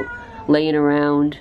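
An orange cat meows once, a loud drawn-out cry lasting about a second, close by, and a voice talks softly just before it.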